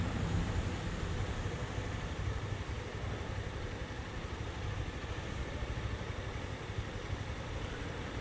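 A motorcycle idles steadily through a cone-practice session for a learner rider, giving a constant, even, mid-level engine drone with no pauses or revs and no one talking.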